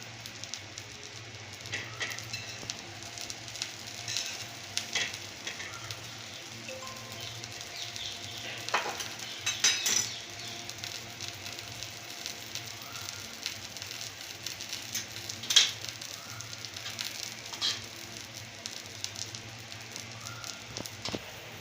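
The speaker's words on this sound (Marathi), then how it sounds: "चांगलं भाजून घ्यायचं दोन्ही साईडला" Masala pav bread rolls toasting on both sides in a pan give a soft, steady crackling sizzle with scattered small pops, fairly quiet and close, with no talking.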